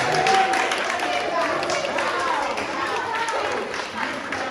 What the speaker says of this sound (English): Let's give a round of applause for our volunteer